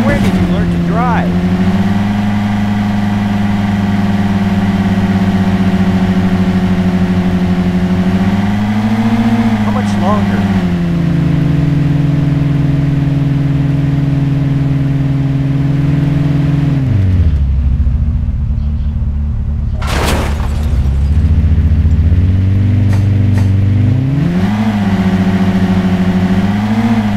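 A Ferrari 812 Superfast engine droning loudly and steadily while driving through Los Angeles city streets in a taxi simulator game, pitch rising and falling with gear changes and a brief whoosh midway; voices talk over it.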